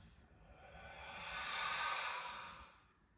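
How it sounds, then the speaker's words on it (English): A single slow breath in through the nose and out through the mouth during a yoga session, a soft close airy exhale that swells and fades over a few seconds, quiet and alone. "let's start by taking an inhale through our nose and an exhale out the mouth."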